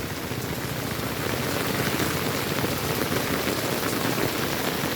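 Steady rain pours onto a market street, a dense, even hiss of drops that holds at one level throughout, with no voices.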